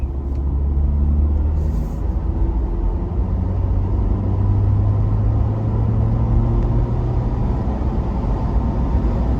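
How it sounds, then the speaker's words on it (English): A Ford Bronco Heritage Edition towing a Suzuki Samurai while accelerating to 60, heard as a loud, steady low engine and road rumble with a rising drone and no speech. "see if the Bronco can pull the Samurai faster than the Samurai can accelerate on its own"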